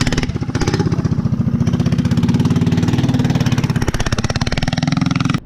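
Small minibike engine running close by, a loud, steady rapid chugging putter that stays at an even pace throughout.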